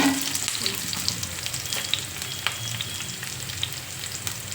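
Oil sizzling in a frying pan, a continuous close hiss crackling throughout with small pops and light utensil clicks, no talking.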